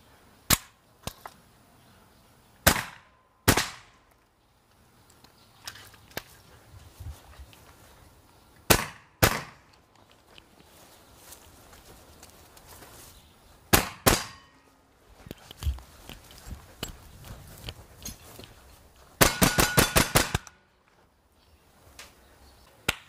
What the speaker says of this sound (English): Adam did a quick tactical shooting here through the little course that we put up here for him